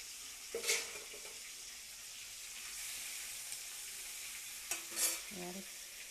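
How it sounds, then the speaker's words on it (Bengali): Fish fries in hot, spattering oil with a steady sizzle, and two louder bursts of popping and spitting break through. "মাছটা খুব ফাটে, ঠিকরায়, তেল ঠিকরায়, ওই জন্য একটু দূর থেকে দিচ্ছি।"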